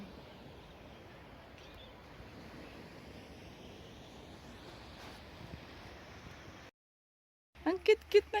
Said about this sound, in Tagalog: Yung tunog ng hampas ng alon,